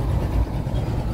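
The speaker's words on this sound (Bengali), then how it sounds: "এই যে এখন পিছে ব্যাক গিয়ার করে দিতেছে" A boat's engine rumbles low and steady while reversing on the haor at Nikli, Kishoreganj, a continuous close, throaty drone with no break.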